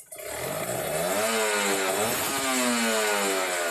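A motorcycle engine runs after adjustment of the carburetor's rich-lean mixture. It starts up and holds a loud, close, steady idle, then revs briefly up and back down again.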